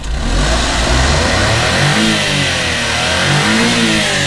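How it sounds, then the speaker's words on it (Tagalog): A Suzuki Every Wagon Sporty Edition engine, turbocharged, revs up and down close by, its mid-pitched drone rising and falling in pitch through several throttle swells over a steady idle, with no talking. "So try natin yung power ng ating makina."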